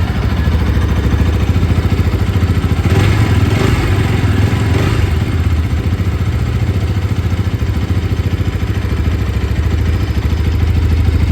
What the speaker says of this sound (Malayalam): ഇനി നമുക്ക് ജസ്റ്റ് ഒന്ന് വണ്ടി സ്റ്റാർട്ട് ചെയ്തിട്ട് അതിൻ്റെ എഞ്ചിൻ്റെ സൗണ്ട് കൂടി ഒന്ന് കേട്ട് നോക്കാം.